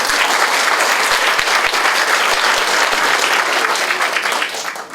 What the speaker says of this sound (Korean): 우선 강연 잘 들으셨다는 의미로 박수 한번 크게